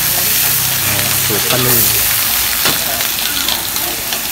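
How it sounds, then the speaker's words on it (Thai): Cabbage frying in a hot wok gives a loud, steady sizzle throughout, with a person speaking briefly over it partway through. "เตรียมลงกะหล่ำลงเลยนี่แสดงว่ากระทะร้อนๆเลยใช่ไหมครับ"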